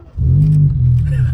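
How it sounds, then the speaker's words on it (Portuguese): A Renault Clio engine with an open, rotted-out exhaust revs loud and close, holding a steady deep growl for over a second. "O escape, mano, olha, olha só o barulhão."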